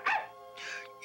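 A cartoon dog gives two short barks with a yip at the end, close and clear, against a quiet background.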